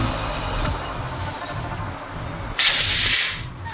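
Pressure is released from the cooling system cap of a Skoda Octavia A5 at about 1.2 atmospheres. After a low background rumble, a loud, sharp hiss bursts out and lasts about a second before fading.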